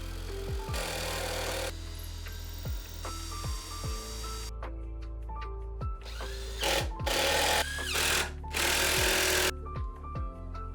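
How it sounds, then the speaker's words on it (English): Impact driver sinking screws into 2x4 boards, a series of loud whirring bursts with rising and falling motor pitch, separated by short pauses and ending in denser rattling hammer-like runs. "I pre-drilled my holes and then sank the screws with my impact driver."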